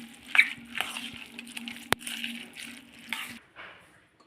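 Hot ghee tempering being poured over curd rice in a home kitchen, giving soft liquid splashes and light clinks of a ladle or vessel at close range, with a steady low hum underneath and no talking.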